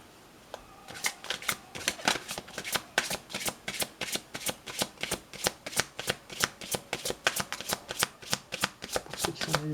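Tarot cards are shuffled close by in a fast, steady rhythm of crisp riffling slaps repeating for several seconds, no voices.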